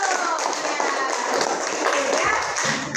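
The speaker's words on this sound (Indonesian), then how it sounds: "tepuk tangan sama dulu" Classroom students clapping their hands together, a brief burst of scattered, fairly loud claps, with speech mixed in.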